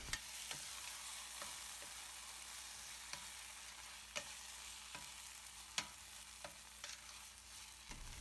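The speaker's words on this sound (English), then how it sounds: "Just mix onion and tomatoes with this masala." Onion and tomatoes being mixed with biryani masala in a pan for veg biryani, a faint low sizzle under periodic soft scraping and tapping strokes of a spoon, quiet and close with no voices.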